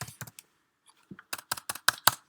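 Keys clatter on a computer keyboard in a short burst of typing, a few crisp clicks, a pause, then a quick rapid run of keystrokes close by.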